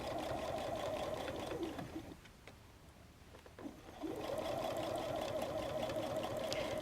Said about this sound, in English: Now I'm just going to keep sewing on down.